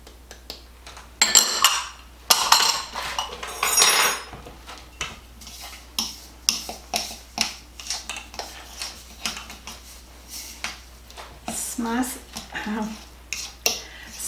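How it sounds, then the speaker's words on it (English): Brown sugar, cinnamon and flour being mixed in a bowl, with a utensil clinking and scraping against the dish in bursts, loud at first and then in steady, irregular strokes. "I'm adding my cinnamon and my flour. I'm going to mix this up"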